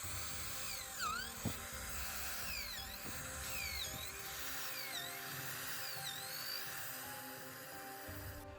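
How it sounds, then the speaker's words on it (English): Power drill boring a row of holes into a log for growing shiitake mushrooms, with repeated rising and falling whines as the bit spins up and eases off, fairly close and steady throughout. "Let me show you how to drill the holes."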